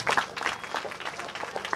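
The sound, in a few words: audience applause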